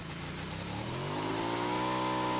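A car engine revs up in PUBG (BGMI), its pitch rising steadily as the vehicle accelerates, loud and close with no speech.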